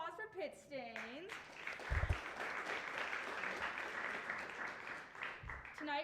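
Steady applause from a studio audience at the Pitt Tonight talk show fills most of the moment, framed by a host's voice at the start and end, with a couple of low thumps mixed in.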